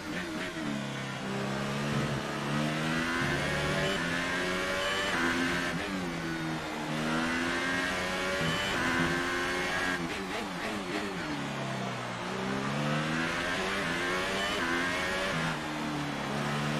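A Formula 1 race car engine in the F1 2018 racing game at the Australian Grand Prix, its high-revving whine rising and falling repeatedly through gear changes as it echoes off a wall, loud and continuous with no talk.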